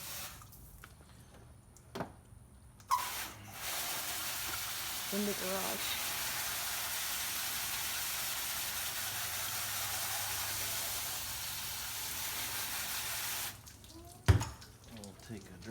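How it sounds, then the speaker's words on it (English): Water sprays over a headlight of a 2008 Honda CR-V in a garage, a steady close hiss running about ten seconds, with brief knocks and a few spoken words before and after. "We're gonna run a little water over this."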